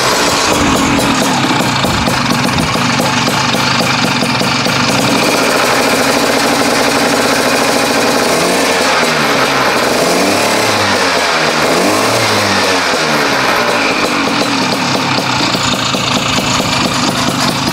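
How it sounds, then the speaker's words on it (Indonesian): A modified Vespa PTS scooter engine runs loud and close with a harsh, raspy two-stroke-like tone, idling rough then revving up and down in waves. "Ini dari suaranya juga udah nggak kayak Vespa PTS biasa ya, udah mirip 2 tak umumnya lah."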